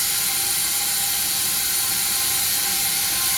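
A nut is snugged down on the bonnet flange of a Leslie steam valve during repair, a steady close mechanical whirring and ratcheting with no pauses or speech.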